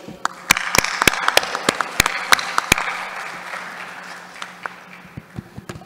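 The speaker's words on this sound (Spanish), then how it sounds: "Aplauso a nuestro líder." An audience at a conference session on IPv6 applauds after a presentation with scattered, sharp individual claps over a soft wash of clapping that gradually fades.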